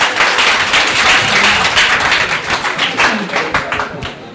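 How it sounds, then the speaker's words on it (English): Audience applause for debaters at a debate competition, a dense steady wash of many hands clapping close by for about four seconds, with no voices over it. "can you give them a hand clap?"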